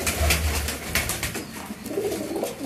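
A golden pigeon of the Mian Nazir bloodline, kept as a hobby bird, gives soft, low, rolling coos close by over faint background noise, with no talking.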